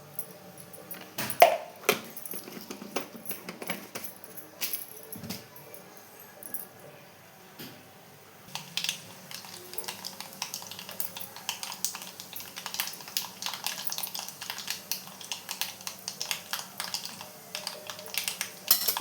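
Mustard seeds spluttering in hot oil in a pan, dense rapid crackling and popping that builds from scattered ticks into a steady fizzy patter, close and moderately quiet.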